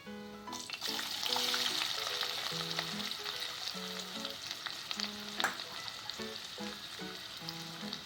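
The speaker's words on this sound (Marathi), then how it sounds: "कांदा तांबूस होईपर्यंत परतून घेऊया." Chopped onion sautéing in hot oil over a cumin tempering for a kantola (spiny gourd) bhaji gives a steady, close sizzle with stirring, all under continuous background music.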